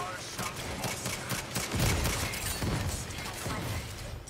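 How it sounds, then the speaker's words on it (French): Rapid bursts of gunfire crackle between two rival gangs in the video game Saints Row, a fusillade of overlapping shots at moderate distance with a heavier volley midway, while a voice talks over it. "J'arrive pas à comprendre qui se tire dessus là."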